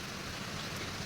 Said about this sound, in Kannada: ನೋಡಿ ಮಳೆ